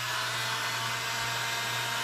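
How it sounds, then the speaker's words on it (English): A steady, loud blowing whir with a constant motor hum, unbroken for the whole stretch, from a heat gun warming grip tape, running close by. "A hairdryer would be better, but a heat gun will work."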